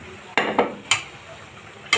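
Washed eggplant stirred into spices in a hot pan for a spicy eggplant curry, a few loud close scrapes and knocks of the spatula over a faint sizzle, with no speech.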